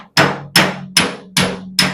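Five sharp, evenly spaced hammer blows on a smashed sheet metal roof, each with a bright ringing clang that decays quickly.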